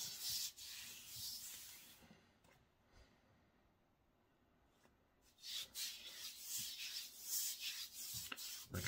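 Hands rub and wipe flaky psoriasis skin on a leg with a small amount of oil, giving close, soft, repeated scratchy sanding-like strokes that pause briefly midway, with no talking.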